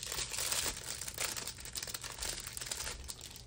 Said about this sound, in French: On va aller l'ouvrir